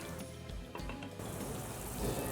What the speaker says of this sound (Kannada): ನೀರು ಕುದೀತಾ ಇದೆ.